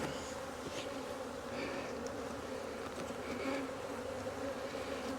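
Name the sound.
honey bees buzzing in opened hive brood chamber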